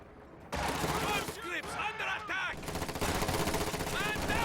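MG34 machine gun fire in Company of Heroes 2, sustained battlefield gunfire jumping in loud after a brief quieter start and rattling on continuously, with voices and other combat noise mixed in.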